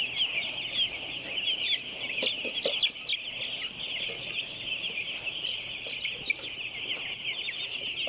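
A crowd of one-week-old broiler chicks in a farm pen keeps up a dense, continuous high chirping, many overlapping peeps from close by with no voices over it.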